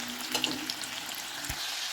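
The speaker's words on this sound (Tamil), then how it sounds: "இப்போ நம்மளோட உருளைக்கிழங்கு சூப்பராக ஃப்ரை ஆகிட்டுருக்கு" Potatoes deep-frying in hot oil for French fries, a steady close crackling sizzle with a few brief stirring clinks, no voices.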